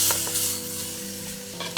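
Lamb pieces fry with spices and onion in a hot pan, a steady close sizzle with a few scraping stirs under a low hum.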